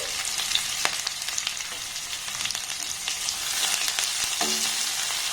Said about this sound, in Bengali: এবার কেটে নেওয়া পেঁয়াজটাকে দিয়ে দেব দিয়ে দেবো কাঁচা লঙ্কাটাকে